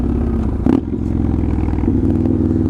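A straight-piped motorcycle accelerates close by, its loud, throbbing exhaust rumbling steadily with a brief clattering burst partway through.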